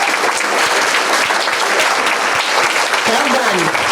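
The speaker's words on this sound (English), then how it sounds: "let's have another round of applause for this incredible group of women" Loud, sustained applause from an audience honoring women at an awards event, dense and steady across the whole stretch with a few voices rising over the clapping near the end.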